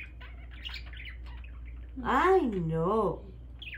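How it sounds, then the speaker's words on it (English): A pet parakeet gives a bright chirping call with rising and falling sweeps, close by and briefly louder than a quiet voice that speaks before it. "He's such a pretty bird."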